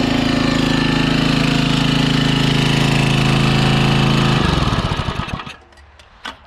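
Small engine on a homemade log splitter running loud and steady with a dense, rough drone, then shutting down around four and a half seconds and sputtering out into near silence.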